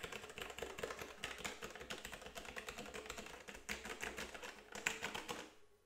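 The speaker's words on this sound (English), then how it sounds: "So hopefully you can kind of hear what the keys sound like." Rapid clicky keystrokes on a Logitech G513 mechanical keyboard with Romer-G tactile switches clatter in uneven bursts, close and fairly quiet, with no voices.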